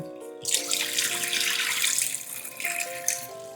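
Tap water runs steadily into a bowl as lentils are rinsed in a kitchen, a close splashing flow that briefly pauses and then resumes, with music playing underneath.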